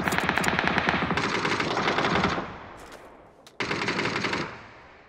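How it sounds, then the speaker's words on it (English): Automatic gunfire in PUBG, fast rattling machine-gun bursts, loud at first, then a quieter stretch before another sharp burst, with no talk. "two of them are shooting each other"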